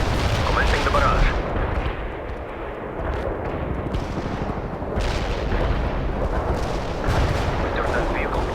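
An artillery barrage in the game World in Conflict pounds away in repeated heavy booms and blasts at irregular intervals, loud and close, with radio-style voices speaking between impacts.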